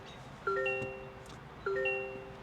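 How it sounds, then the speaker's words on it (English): Startup chime of a 2024 Toyota Corolla Cross Nightshade Hybrid, two identical soft bell-like multi-tone dings about a second apart, each fading away, faint in a quiet cabin. "the chime that you're hearing is a relatively new chime for Toyota that came out last year"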